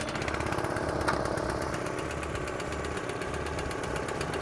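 A small petrol engine on a Trailblazer 12 air compressor runs at a steady, rapid chugging idle, close and loud, with a fast regular firing rhythm and no talking.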